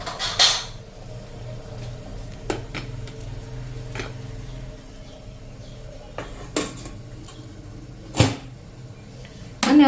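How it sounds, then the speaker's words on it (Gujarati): Metal clanks and clinks as a steel plate of dhokla batter is set into a pressure cooker, a few sharp knocks scattered over a low hum, fairly close and moderately loud, with no voices. "હવે આ થાળી આપણે આમાં મૂકી દેશું."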